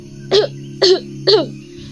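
Three sharp coughs spaced evenly about half a second apart, close and fairly loud over a steady low hum.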